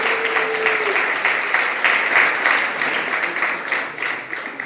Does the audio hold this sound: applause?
yes